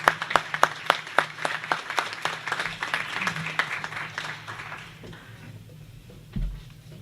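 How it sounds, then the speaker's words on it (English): A small audience at a candidates' evening gives a round of applause, with distinct, individual claps that thin out and stop after about five seconds, leaving near quiet. "Give yourself a round of applause."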